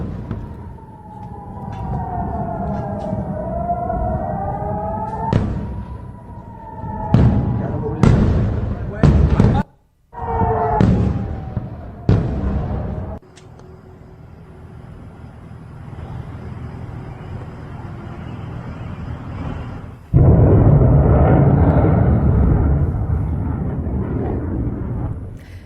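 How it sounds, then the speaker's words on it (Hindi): Missile strikes over Tel Aviv, Israel, with a run of loud sharp blasts and booms in the sky, some with rising whistles, then sustained roaring rumble and sirens in the background. "आसमान में तेज धमाकों की आवाज सुनाई दे रही है।"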